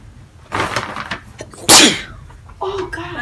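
A sharp, loud sneeze bursts out close by after a brief rustling intake of breath, followed by a short voiced murmur.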